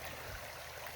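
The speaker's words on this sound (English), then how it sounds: "I love this sound of rushing water" A mountain stream rushing beside the Hunt Lake Trail, a steady broadband wash of flowing water that fills the whole moment, close and loud with no talk.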